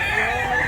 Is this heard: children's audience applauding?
no